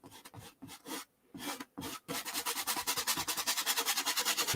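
Brush scrubbing paint onto a canvas while painting a peaceful marina landscape, heard as a few separate rough strokes that then become a fast, steady run of loud rasping scrubs, with no talk.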